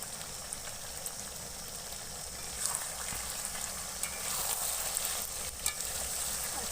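Chicken pieces frying for chicken kosha give a steady close sizzle with light scattered crackles and a few spoon scrapes against the pan.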